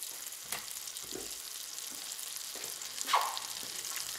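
Pressed garlic hits butter and a splash of oil in a pan, giving a faint, steady sizzle with a few soft stirring clicks and scrapes, no voices.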